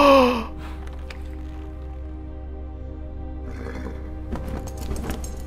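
A horse whinnies loudly at the start in Elden Ring, followed by soft, intermittent hoof clops over a low steady hum.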